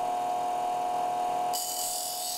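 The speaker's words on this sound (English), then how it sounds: "grind a curved bevel on one end" A grinder shapes a curved bevel on one end of a steel blade cut from an old handsaw or card scraper. A steady motor whine runs first, then harsh, gritty grinding bursts in partway through and continues loudly.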